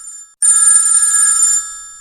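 A phone ringtone: a loud, high, steady electronic trill that starts abruptly after a brief gap and holds for over a second before cutting off.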